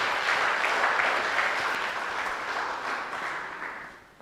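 A conference audience applauds a presentation by young boys at an innovation week event, with dense even clapping that holds strong, then fades away over the last half second.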